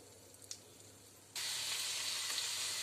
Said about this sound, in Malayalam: അപ്പോൾ ഞാനിവിടെ കടുക് പൊട്ടിച്ചിട്ട് ചുവന്നുള്ളി ചെറുതായിട്ട് പൊടിയായിട്ട് കൊത്തി അരിഞ്ഞതില്ലേ അത് ഞാനിപ്പോൾ ചേർത്ത് കൊടുത്തിട്ടുണ്ട്